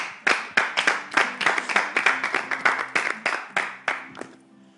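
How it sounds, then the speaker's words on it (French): An audience claps for Miss Eve at a live show, a brisk burst of separate hand claps that starts sharply, holds steady for several seconds, then thins out and fades. "Applaudissez Miss Eve pour moi"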